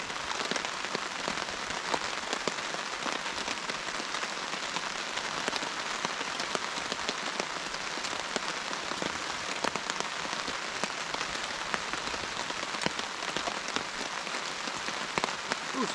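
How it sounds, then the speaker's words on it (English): Rain falls steadily on a riverside kayak campsite, a dense, even patter of drops on surfaces with occasional sharper taps, continuous and close for the whole stretch with no talking. "Decent amount of rain."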